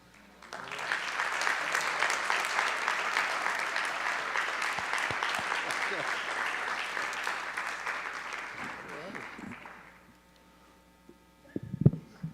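An audience at a school board meeting gives sustained applause for Michael Ranga, a dense wash of clapping lasting about ten seconds before fading, with a few brief sounds afterward.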